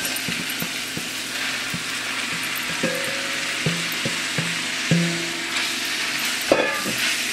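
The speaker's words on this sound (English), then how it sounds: "I'm just gonna throw this in here to saute it" Seasoned ground meat with black pepper and salt sautéing in a pan for shepherd's pie, a steady low sizzle under a series of sharp metallic clanks and scrapes from a utensil stirring and tossing it, fairly close.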